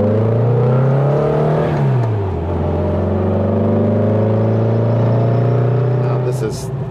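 A 1960 VW ragtop's 36 horsepower air-cooled engine revs and pulls away, loud and close, its drone stepping down through a gear change and then climbing steadily again as the car accelerates.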